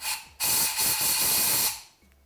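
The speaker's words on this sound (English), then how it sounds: "we can blow through that hole and it'll blow out any dirt that's built up around in there" A compressed air hose blasts dirt from around the spark plug hole on a Honda CRF450R cylinder head: one loud, steady hiss lasting just over a second, cutting off abruptly, with no voices.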